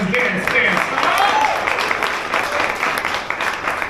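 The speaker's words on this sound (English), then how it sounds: "Keep applause for Brian Lamb's dance." Comedy-club audience applauds a dance performance, continuous clapping joined by shouts and voices that ride over it, especially at the start.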